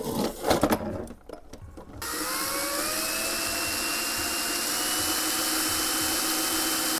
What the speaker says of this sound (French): il va falloir que je fasse un trou pour pouvoir passer mon fil d'alimentation